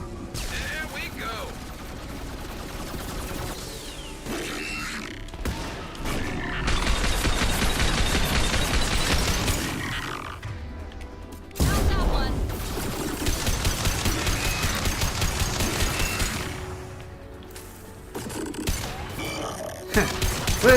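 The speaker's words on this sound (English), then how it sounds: "We're shooting a prime in the butt." Rapid bursts of gunfire aimed at a Prime in the Mass Effect 2 video game come in two long, loud volleys of sustained shooting, with a short lull between them, over busy game combat sounds.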